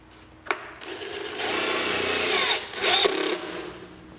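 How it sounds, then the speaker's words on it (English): A power drill drives screws to fasten a subwoofer into an MDF enclosure for a Dodge Ram, a sharp click then a sustained whirring drive in two bursts, close and loud with no talk. "so now we can just load up the screws"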